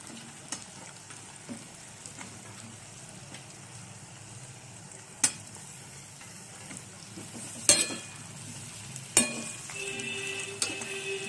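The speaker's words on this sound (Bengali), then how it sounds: "এই যে সিমটা আলুটা একটু ভেজে নিয়েছি, এবারে বেগুনটা দিই।" Eggplant added to a pan of frying flat beans and potato, with a quiet steady sizzle and occasional sharp clinks and scrapes of a utensil against the pan.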